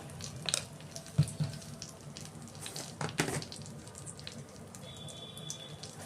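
Potatoes, brinjal and chili powder frying in oil, a faint crackling sizzle with scattered pops and a few louder spatters, no talking over it.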